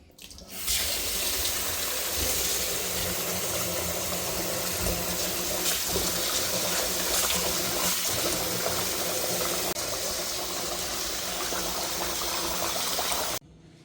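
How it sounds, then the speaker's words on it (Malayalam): Parboiled rice is washed under running water, giving a steady, close splashing flow from a tap into a vessel that continues throughout before cutting off abruptly. "ഈ പുഴുങ്ങലരി നമുക്ക് ഒന്ന് നന്നായിട്ട് കഴുകിയിട്ട് വറുത്തെടുക്കാം"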